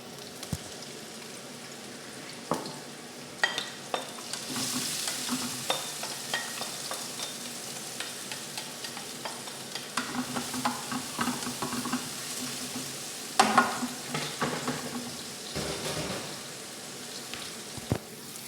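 Onions and red chilies fry in a pan with a steady close sizzle, broken by scattered scrapes and clacks of stirring throughout, a louder cluster of knocks near the end.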